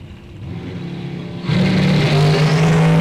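A top dragster of about 1,300 horsepower launches at a drag race. A steady engine drone jumps abruptly into a loud, sustained roar with a strong tonal whine, close and dominant.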